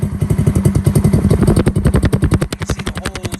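A homebuilt spare-parts motorcycle with a drilled-out exhaust and its idle set a little low thumps loud and close. It gives a steady, uneven, lopey chug of rapid exhaust pulses with no voices over it.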